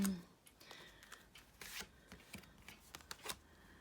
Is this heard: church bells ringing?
no